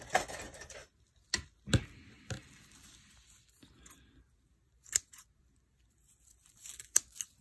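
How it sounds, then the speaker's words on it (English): Several sharp snips of kitchen scissors cutting through a tough plant rhizome, spaced irregularly with quiet gaps and a few rustles between. "I'm actually going to come in here with some kitchen scissors."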